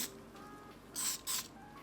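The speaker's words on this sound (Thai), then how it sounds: "เราจะฉีดสเปรย์นะคะอัดรอนเขาเข้าไปนะคะ" Two short hissing bursts of hairspray are sprayed onto freshly curled short hair, close and clear against a quiet room.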